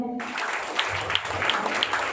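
A brief burst of clapping from a group, scattered claps over a low murmur, lasting about two seconds.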